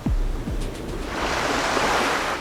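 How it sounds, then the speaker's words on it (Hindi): Ocean waves surge in a loud, continuous roaring wash that builds and holds steady, with a couple of deep low booms at the start. "इन लहरों का वेग तो अत्यंत प्रचंड है।"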